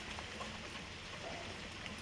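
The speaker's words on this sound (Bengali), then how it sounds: "তো বৃষ্টি পড়ছে, কী করে বাসন টাসন মাজবো।" Rain falls steadily outdoors as a soft, continuous broadband hiss with no clear individual drops, fairly faint and unbroken for the whole stretch, with no talking.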